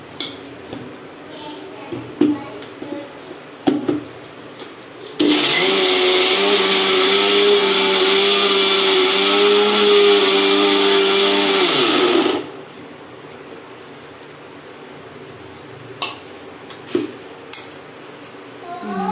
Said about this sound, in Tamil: துருவி வச்சுருக்கிற வெல்லத்தை இதில் மிக்ஸ் பண்ணி இப்போ நம்ம மூடி அரைச்சிக்கலாம் திருப்பி